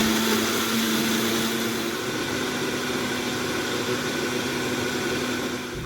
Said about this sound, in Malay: transferkan dalam blender kecil. Kisar tanpa letak air hinggalah betul-betul lumat